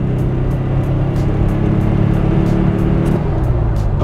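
An old Volkswagen car accelerating at full throttle on the autobahn, its engine holding a steady, loud drone with dense road and wind roar, continuous and unchanging throughout.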